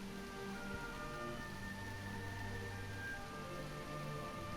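Steady rain falls in a Dragon Quest 8 cutscene, a soft continuous hiss of drops at low level with no voices over it.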